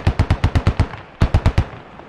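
Video game Squad gunfire: a rapid burst of about eight close, sharp automatic shots, a short pause, then a second burst of four or five shots, with no talking.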